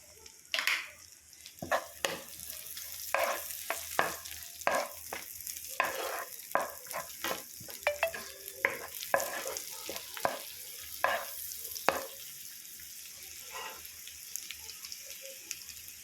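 Chopped garlic frying in hot butter for white sauce pasta, a low sizzle punctuated by a long series of spatula scrapes and taps on the pan, close and moderately quiet, with no talking.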